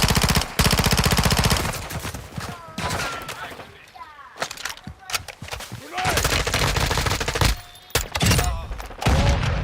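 Call of Duty DMZ gunfire, with rapid automatic bursts and single shots rattling loudly across the clip, separated by short gaps of game sound.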